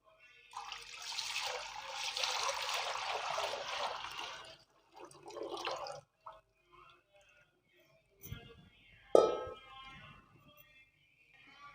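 Boiled jaggery and tamarind water is poured into a wok for tamarind and plum sherbet: a long splashing pour, a short second stream, then a few clinks and a dull thud.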